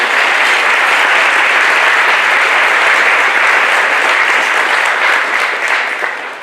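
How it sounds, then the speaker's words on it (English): Sustained applause from a large audience, steady and loud throughout, with many hands clapping densely before tapering slightly at the end. "So we can give them another round of applause."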